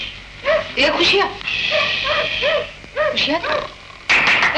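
Several dogs bark and yip in repeated bursts near the listener in a 1955 Hindi film scene, with a whimpering tone between barks and speech mixed in.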